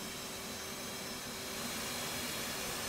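An F/A-18C Hornet jet engine spools up during a cold start in the DCS World flight simulator, a steady, even broadband whine and rush holding at a constant level with no talk.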